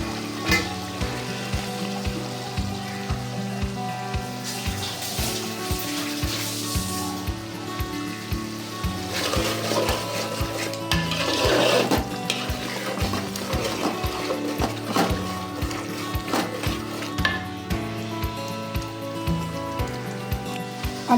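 Cumin paste added to meat frying in a pan, a patter of sizzling and crackling close by, with stirring knocks running underneath throughout.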